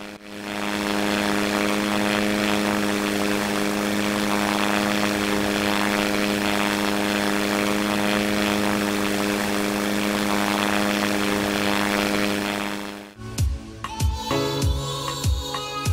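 A propeller airplane engine drones loud and steady in a plane-building video game, a constant buzzing hum for about thirteen seconds before cutting out into scattered mechanical clicks and knocks.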